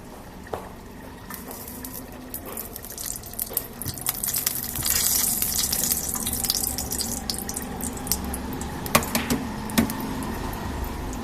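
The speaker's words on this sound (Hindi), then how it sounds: "तवे पे डालेंगे घी।" Ghee sizzles on a hot tawa griddle while rotis are prepared, a steady close crackling hiss that swells in the middle, with occasional sharp pops and clinks of utensils.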